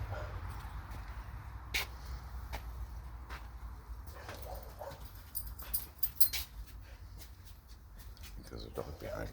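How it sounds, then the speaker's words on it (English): A dog stirs and shuffles close behind someone in a room, giving soft scratchy movements and small whimpering sounds under a steady low hum, with brief sharper clicks and taps scattered throughout. "I have a dog right behind me."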